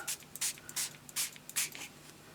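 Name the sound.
spraying mixed media tag with spray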